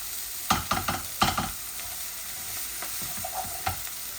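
Vegetables, carrot and tomato, fry in a pan without added water, a steady sizzle broken by clusters of sharp scraping stirs near the start and a few more toward the end.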